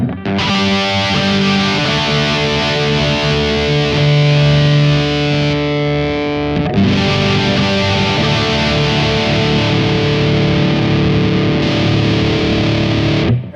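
Electric guitar driven through a Tone City Wild Fro overdrive pedal with extra gain from its toggle switch, heard as loud, saturated chords ringing out and re-struck about halfway through, held close and dense with no voice.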